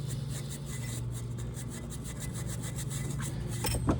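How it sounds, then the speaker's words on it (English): A brush scrubs old built-up material out of the pulley grooves on a 1996–2002 Toyota 4Runner engine, a close, steady rhythmic rasping and scratching that keeps a fast back-and-forth pace. "as I'm taking my brush here and just kind of lightly going over it, it's actually loosening up this old material"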